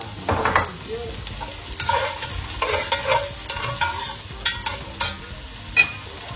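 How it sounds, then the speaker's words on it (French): Shallots hit hot oil in a pan for a quick fish curry, sizzling steadily while a utensil stirs and scrapes in repeated close clatters, with no voices. "maintenant que c'est chaud, je vais incorporer les échalotes"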